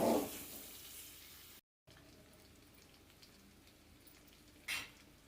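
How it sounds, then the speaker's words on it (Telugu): Eggs fry lightly in a pan for an egg curry, giving a faint, steady sizzle with a louder burst at the start and a brief flare near the end, with no talking. "లైట్గా ఫ్రై అవ్వనిద్దాం కొంచెం వేగనివ్వండి ఇంకొంచెం సేపు వేగనిద్దాం"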